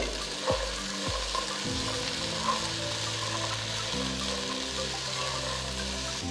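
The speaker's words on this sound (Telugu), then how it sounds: "బీన్స్ బఠానీలు ఇవన్నీ వేసి బాగా మిక్స్ చేసేయండి" Beans, peas, carrot and other vegetables for Andhra-style veg pulao frying and being stirred in a pan, a continuous close sizzle with intermittent scraping and stirring, steady and moderately loud, no voices.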